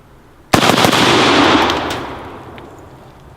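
An AK rifle fires at a target in a sharp, close burst of shots that rolls into a long, fading echo outdoors.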